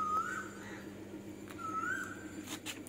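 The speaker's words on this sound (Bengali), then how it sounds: "আবার এদিকে কোকিল ডাকছে বাবা।" An Asian koel calls twice from a distance, each call a short rising whistle over a faint steady hum.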